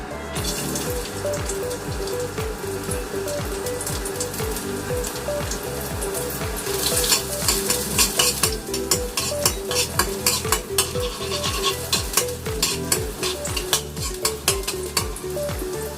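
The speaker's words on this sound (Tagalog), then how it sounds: "igigisa na natin yung garlic, yung bawang to." Garlic sautés in oil in a pan, giving a steady close sizzle and crackle with repeated stirring scrapes throughout, and no talking.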